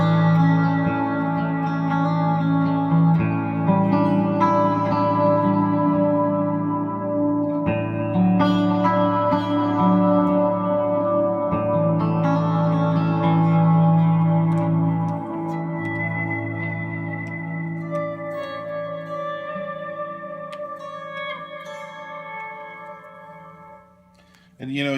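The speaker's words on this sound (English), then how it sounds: "you can blend in the reverb too. It sounds pretty cool." Electric guitar played through an MXR M300 reverb pedal with reverb blended in: sustained chords and single notes ringing out with lush, shimmering tails, phrases overlapping, decaying softly near the end.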